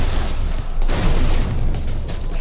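A Boltcaster multitool fires in rapid bursts in the space game No Man's Sky, a loud, dense stream of energy shots and impacts with no break.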